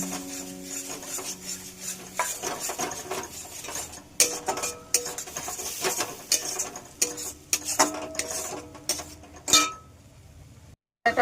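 Ground green pea paste with spices is stir-fried in a pan, a metal spatula scraping and clinking repeatedly against the pan over a soft sizzle, with irregular knocks close by.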